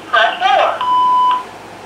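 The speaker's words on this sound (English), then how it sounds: "Please record your message after the beep." A BellSouth Directional Bell MH9934BK 900 MHz cordless telephone answering machine gives a recorded voice prompt, then a single clear, steady electronic beep lasting about half a second.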